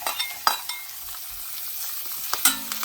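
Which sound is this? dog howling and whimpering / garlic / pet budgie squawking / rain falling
garlic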